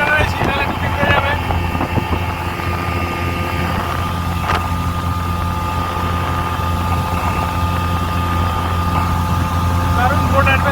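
Speedboat engine droning steadily through a fast ride on water in Jharkhand, India, with wind buffeting the microphone and voices talking over the continuous motor noise.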